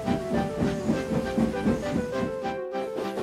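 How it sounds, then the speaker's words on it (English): A steam train sets off, chuffing in a steady rhythm under a constant hiss, with musical tones playing along. "The Christmas train is now heading off."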